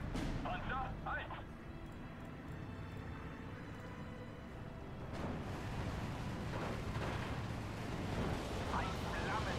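Napalm strikes blanket a town in the WWII strategy game Steel Division 2, producing a dense, continuous roar of rumbling explosions and crackling fire that swells louder midway, with voices talking over it.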